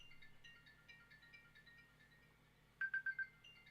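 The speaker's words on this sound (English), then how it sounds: "I've got someone trying to phone me" A phone receiving an incoming call gives a short, faint electronic ringtone: a quiet warbling tone, then four quick bright beeps in a row, heard softly against a quiet room.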